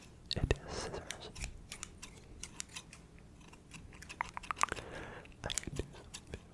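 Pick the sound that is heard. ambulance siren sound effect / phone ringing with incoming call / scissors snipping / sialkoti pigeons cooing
scissors snipping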